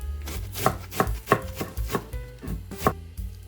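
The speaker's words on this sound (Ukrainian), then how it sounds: "Мілко насікла капусту і викладаю в миску" A knife chops cabbage on a board in quick, even strokes, each a crisp near thud, about a dozen of them with no voice.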